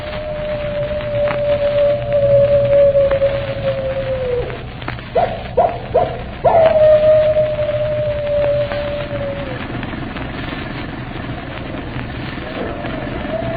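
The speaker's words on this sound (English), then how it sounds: "you can hear his animal howl a hymn of death" A long, wavering animal howl rises and sustains in a radio drama, broken by a few short yelps before a second long howl trails off, over a low rumbling background.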